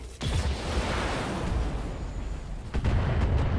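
A PPC particle cannon fires in the BattleTech mech combat game, a loud booming blast with a rumbling crackle, then a second heavy discharge near the end, with no voices.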